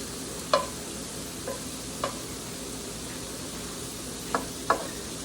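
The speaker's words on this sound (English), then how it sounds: "for the shrimp to cook" Shrimp cook in a dry pan with no butter or oil, giving a faint, steady sizzle broken by a handful of sharp utensil scrapes and taps against the pan.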